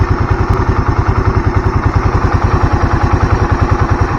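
A motorcycle engine running on Unil Opal Racing 10W50 oil idles loud and close, with a steady, even pulsing thump and a mechanical clatter on top, heard alone throughout.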